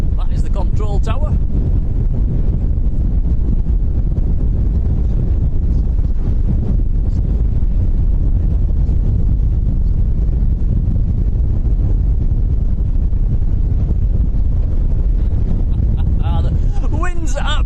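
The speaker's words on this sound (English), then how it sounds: "The wind's absolutely, it's doubled in the last 10 minutes, can you believe it?" Strong wind at Lanzarote Airport in the Canary Islands buffets the microphone with a loud, constant low roar throughout, while a voice talks briefly at the start and end.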